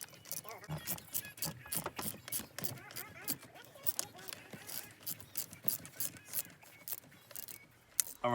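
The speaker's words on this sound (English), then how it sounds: "go ahead and put those 3 torque screws back in" Torx screws being driven back into a trim part of a 2007 BMW 335i E93 during a Steptronic shifter repair, giving quick ratcheting clicks and small metallic rattles close by, with speech-like sounds mixed in throughout.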